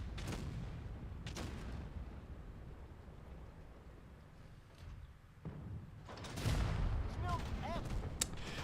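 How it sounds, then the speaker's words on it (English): Tank cannon shots in a Lesta tank video game, MB-64 Galilej tier 10 hybrid medium, land as a few sharp distant blasts and a heavier burst near the end, all over low battle rumble while a person talks throughout. "Why are they shooting me?"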